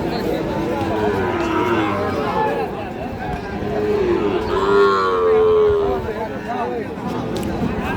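Sahiwal breed bull calves at a busy cattle market moo in long drawn-out calls, loud and close, over a constant hubbub of crowd chatter and people talking nearby.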